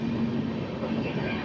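Steady low rumble of a passing train hauled by a WAP-5 electric locomotive, a continuous rolling drone with a faint hum throughout.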